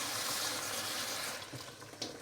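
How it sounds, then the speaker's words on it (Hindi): Water from a glass is poured into a pot of chicken biryani with rice, a loud rushing splash that tapers off into faint trickles after about a second. "तो 2 गिलास 3 मैं पानी डालूँगी।"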